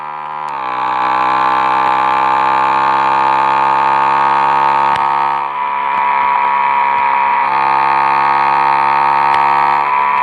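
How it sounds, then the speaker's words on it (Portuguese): A motorcycle engine in the Traffic Rider mobile game holds a loud, steady high-revving drone, its pitch climbing slightly and dipping briefly midway, with no talk over it. "Vamos estourar o motor dessa bagaça."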